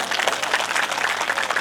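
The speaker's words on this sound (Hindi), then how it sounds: "ताली बजाया करो तो जरा हाथ उठा के बजा।" Audience applause at a Bhagwat Katha in a Radha Krishna temple, a short burst of dense, even clapping from a crowd, steady and fairly loud.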